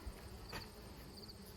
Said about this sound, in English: yeah, there's bees in here already.